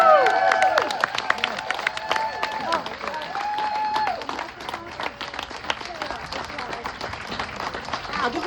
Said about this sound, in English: Wow, give them another round of applause.